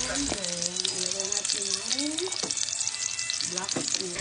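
Fish and aromatics sizzle in hot cooking oil in a pan, a dense steady frying crackle broken by repeated scraping stirs, close and loud.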